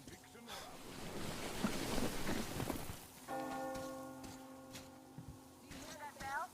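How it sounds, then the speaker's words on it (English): A bell tolls with sustained ringing tones over wind and rushing water in the Metro Exodus video game, following a stretch of noisy ambience, with someone speaking. "Do you hear that bell?"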